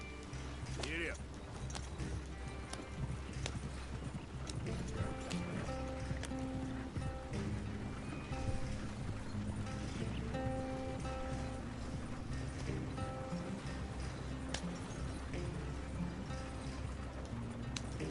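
Horse hooves clip-clopping at a steady galloping rhythm in Red Dead Redemption 2, continuous over a dense game soundscape with water and ambient noise, with some talking layered on top.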